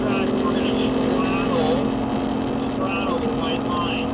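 Ford Mustang engine droning steadily on a racetrack, loud and continuous with a low humming tone throughout, while a voice talks over it.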